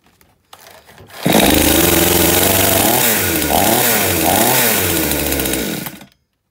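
A flooded chainsaw, started with the throttle held down, bursts into a loud, close, high-revving roar after a brief pull, runs steadily with wavering pitch, then cuts off.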